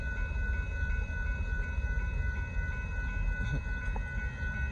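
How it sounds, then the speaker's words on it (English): Amtrak Texas Eagle 22 passenger train heading north at Dittmar Road in Austin, Texas, passing as a steady low rumble with continuous rail noise and faint tonal hums, with no voices. "there goes Amtrak Texas Eagle 22"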